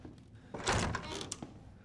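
A heavy door slams shut in the survival horror game Resident Evil 7 Biohazard, one loud close thunk followed by a rattling settle and a smaller knock.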